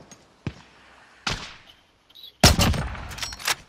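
Gunfire in the Call of Duty Warzone video game: a couple of sharp isolated shots, then a dense cluster of rapid loud reports near the end, with echoing tails and no talk.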